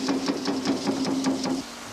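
An Eckold Kraftformer flattening tool hammering sheet metal to take out dents and buckles, a rapid even train of about nine metallic blows that stops abruptly, loud and close.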